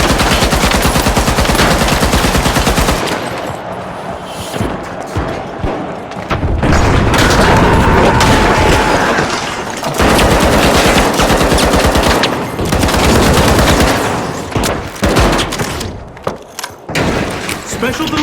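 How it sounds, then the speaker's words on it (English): Heavy gunfire mixed with frag grenade and RPG explosions in The Finals, loud and dense with sustained bursts and booming blasts throughout, briefly thinning in a few short gaps before erupting again. "Frag grenade out! Toss the frag! RPG away!"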